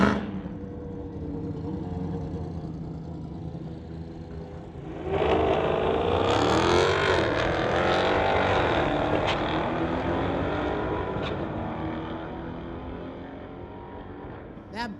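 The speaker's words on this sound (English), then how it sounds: "That BMW's chasing down that Dodge." A BMW and a 2019 Dodge street-legal car race down a drag strip, a loud sustained engine roar that swells around five seconds and then slowly fades.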